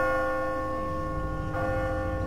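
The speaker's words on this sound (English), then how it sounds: "So let's go ahead and ring the bell." In The Walking Dead video game, a large bell rings out with a loud, sustained metallic tone that fills the whole moment, close and resonant, with a fresh strike partway through.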